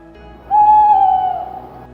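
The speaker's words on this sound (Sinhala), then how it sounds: "අංක 3 බකමූණෙකුගේ කාලරාවය" A single owl hoot, one sustained, steady tonal call lasting over a second, loud and close in an otherwise quiet night setting.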